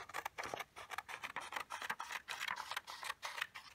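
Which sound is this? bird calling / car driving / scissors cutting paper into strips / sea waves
scissors cutting paper into strips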